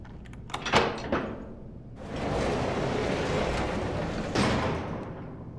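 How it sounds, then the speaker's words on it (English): A door opening on a spaceship set in a science-fiction drama, with a few mechanical clunks followed by a steady whooshing slide that ends in a soft thud, heard alone without talk. "Would you open the door, please?"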